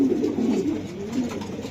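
Racing pigeons, a pair shown by a breeder, cooing with low, rolling throaty calls that come in close, steady waves across the whole moment with no talk over them.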